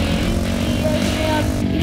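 A scooter engine in the video game Ultimate Motorcycle Simulator drones loudly and steadily at close range, a buzzy, constant motor hum with no speech.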